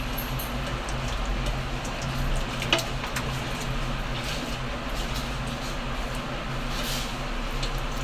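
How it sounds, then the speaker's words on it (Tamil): A spoon stirs pulao in a cooking pot, giving a steady soft scraping and sizzling hiss that runs evenly throughout, with one sharper clink near the middle. "இப்போ கிண்டி செக் பண்ணிக்கிறோம்."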